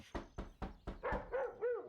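A dog barks in a film scene, a run of sharp evenly spaced barks that turns into higher whining yelps toward the end, close and clear with no speech.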